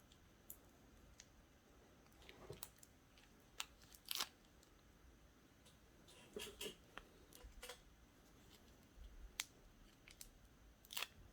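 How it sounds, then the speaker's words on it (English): Faint plastic wrapping rustles and crinkles as it comes off a Hot Toys Rocket collectible figure, with scattered sharp clicks and small crackles over quiet background. "Let's take all the plastic off."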